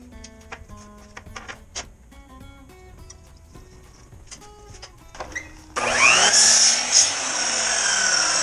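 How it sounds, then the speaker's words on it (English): A power saw spins up loudly and cuts through wainscoting with a bright, sustained whine after a stretch of quiet tapping and clicking setup noises. "I'm just going to set this saw up so I can cut this wainscoting at 42 inches."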